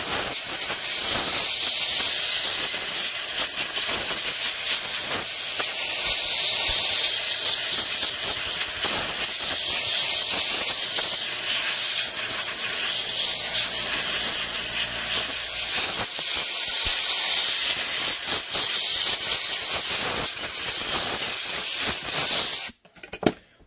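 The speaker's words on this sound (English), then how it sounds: "the reason why we use air is to cool it off quicker" Steady, loud rushing hiss of air blown over a freshly peeled plastic mold for a Baofeng UV-5R radio, continuous for over twenty seconds and cutting off abruptly at the end, with no talk.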